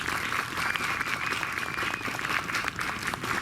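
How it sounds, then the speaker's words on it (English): An audience applauds sixth-grade band students at a school concert, with dense, sustained clapping that fills the room without a break. "If you could give them a round of applause."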